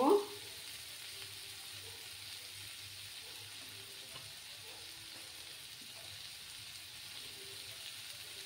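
Oil sizzles softly around spiced vegetables in a pan, a faint steady crackling hiss after a brief knock at the start, with no voice over it.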